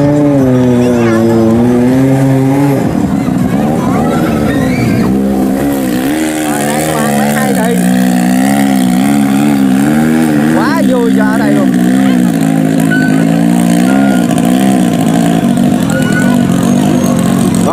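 Racing boats roar along a river during a festival race, loud droning engines rising and falling in pitch as several boats compete, with someone commentating excitedly over them.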